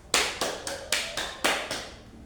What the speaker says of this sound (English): A round of applause for all of us.